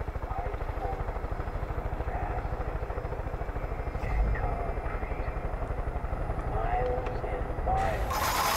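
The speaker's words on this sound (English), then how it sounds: "There's actually a helicopter right here and I can actually see it this time" Helicopter in the video game Far Cry 5, its rotor a steady low rhythmic thudding with a whine above, continuous and moderately loud throughout under a faint voice.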